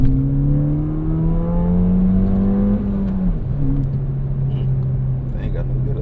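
Ford Fiesta ST accelerating from a rolling start, a loud close engine drone rising steadily in pitch, dropping briefly at a gear change, then pulling again under the cabin.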